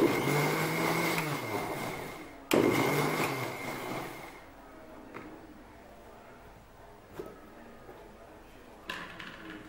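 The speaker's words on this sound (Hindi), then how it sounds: "इसको हम एक बार और मिक्सर में घुमा देंगे।" Kitchen mixer whirring through spiced buttermilk with black salt and cumin powder, two short loud bursts in the first four seconds, then quiet with faint clicks and handling.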